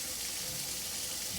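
Tap water runs steadily from a sink faucet during handwashing, a continuous soft hiss heard close and alone with no talking.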